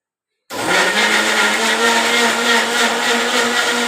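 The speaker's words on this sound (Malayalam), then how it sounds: "നമുക്കിത് ബ്ലെൻഡ് ചെയ്തെടുക്കാം." After a brief silence, a mixer jar starts up loud and close, whirring steadily as it blends milk and ice cream into a shake, with no talk over it.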